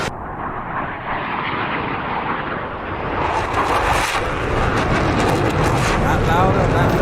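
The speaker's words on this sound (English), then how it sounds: "Flyby, shall we?" An F/A-18 Hornet roars past in a DCS World flyby, a loud, sustained jet engine rush that builds and brightens as it sweeps close, with a voice talking over it.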